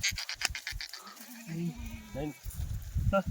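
A goat gives a short wavering bleat amid nearby talking, close and moderately loud.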